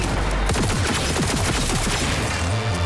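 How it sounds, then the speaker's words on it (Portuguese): Rapid gunfire from a weapon firing three-round bursts in the video game Cyberpunk 2077: Phantom Liberty. Repeated sharp cracks run close and loud over a dense, constant background of game noise. "Não gosto de quando dá 3 tiros de uma vez"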